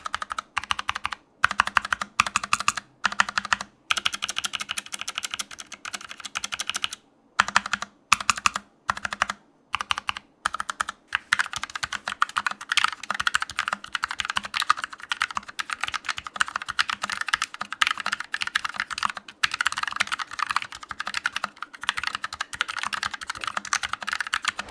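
Rapid, continuous typing on a Fnatic Streak65 LP low-profile gaming keyboard, close and crisp, with a few brief pauses between bursts of keystrokes and no talking.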